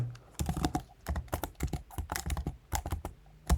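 Quick bursts of keystrokes on a computer keyboard while Python code is typed, crisp and close, with irregular clusters of clicks separated by short pauses.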